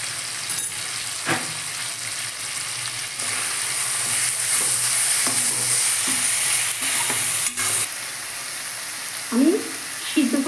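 Shrimp curry stir-fries in a pan with a splash of water, producing a loud, continuous sizzle broken by repeated spatula scrapes and knocks; a short voice surfaces near the end.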